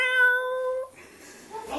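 A house cat gives a clear, tonal meow lasting under a second, close and fairly loud, followed by faint rustling and handling noise.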